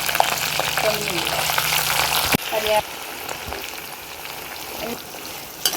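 Coconut pieces and masala sizzle and crackle loudly in a hot pan, a dense continuous frying hiss with a few stirring knocks, the noise easing slightly after a sharp clatter partway through.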